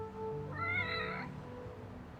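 A single drawn-out cat meow from the video game Lost Judgment, clear but fairly quiet, rising and falling over about a second against a soft background hum.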